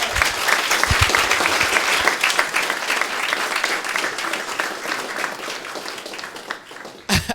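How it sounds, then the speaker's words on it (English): Audience applause at a makers careers fair, a dense steady burst of clapping from a crowd indoors, loud and continuous before tapering off at the end. "And an even bigger round of applause to Alex, who managed to run in here and deli"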